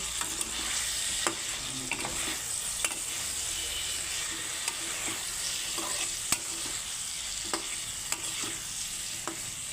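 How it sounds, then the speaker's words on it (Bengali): Potatoes and spices frying in a pan for a tilapia, potato and ridge gourd curry, with a constant sizzle broken by repeated sharp scrapes and knocks from stirring, close and with no voices. "দিয়ে আমি আবারও নাড়াচাড়া করে নিচ্ছি"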